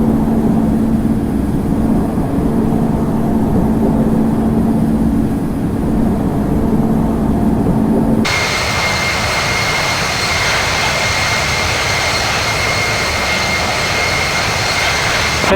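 Boeing 787-8 jet engines in Infinite Flight, a steady loud turbine roar that suddenly swells into a brighter, higher whine halfway through as takeoff power comes on, with no talking.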